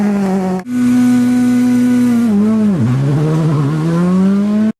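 Small RC rally cars launch at a Christmas RC rally in Montbéliard, their electric motors whining loudly and close. The buzzing pitch holds, dips sharply, then climbs back as they pull away, with no voices.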